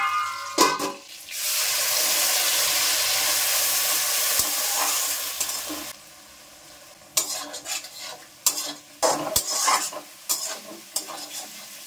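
Egg cubes frying in oil in a home kitchen, a loud sustained sizzle for several seconds that then gives way to intermittent clinks and stirring noises, with no talking.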